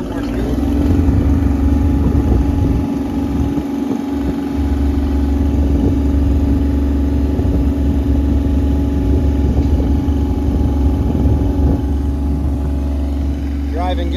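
A JLG 400 telescoping boom lift drives along with a steady, loud mid-pitched engine drone that holds throughout, and people talk over it.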